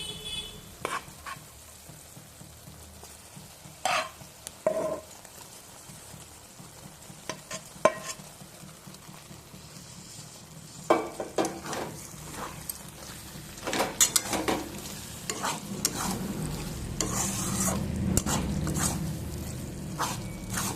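Egg fritters are stirred into spiced curry paste frying in oil in a pan for a lentil tarka, with sporadic quiet scrapes and a sizzle that grows fuller toward the end.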